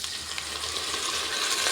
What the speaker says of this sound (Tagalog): Tapos lagyan natin ng toyo.